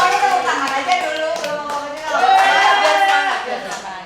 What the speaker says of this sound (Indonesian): Pokoknya tepuk tangan aja dulu.